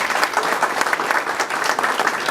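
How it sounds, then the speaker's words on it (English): Steady, dense applause from an audience honoring scholarship students, continuous clapping throughout with no gaps. "Give them a round of applause."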